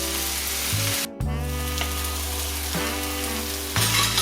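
Corned beef hash sizzles steadily in a frying pan, a close, continuous crackle with a brief dip partway through, no voices over it.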